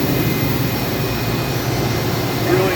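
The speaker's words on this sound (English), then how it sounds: "Machine is running under power." A Mori Seiki SV-503-40 CNC vertical machining center with a Tsudakoma 4th-axis chuck and 10,000 RPM spindle runs under power, giving a steady, loud, even whirring drone with a faint high tone.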